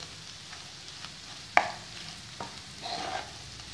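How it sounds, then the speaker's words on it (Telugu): Fenugreek leaf powder, still a moist paste, is stir-fried in a pan until dry. Soft scraping and stirring sit over a low sizzle, with one sharp utensil clink on the pan and no talking. "మెంతాకు పొడి, ఇది దీంట్లో వేసి ఫ్రై అవనిద్దాం"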